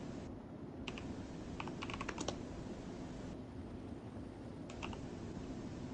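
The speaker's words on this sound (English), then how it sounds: "Larson's typing in the Discord" Keyboard typing on a computer during a Discord chat, faint quick bursts of clicking keystrokes in small clusters over a steady background hum.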